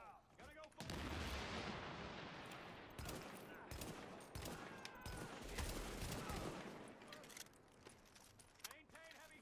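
Heavy gunfire in The Division video game, dense bursts of rifle and automatic shots with sharp cracks throughout, voices talking over the firefight.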